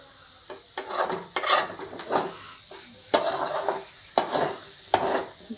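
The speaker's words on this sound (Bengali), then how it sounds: "এর মধ্যে একটা ডিম ফাটিয়ে দিয়ে একদম সুচুর করে ভেজে নিয়েছি" An egg frying in a pan for egg chowmein sizzles loudly, while repeated scraping strokes of a spatula stir it in an uneven rhythm. No one speaks.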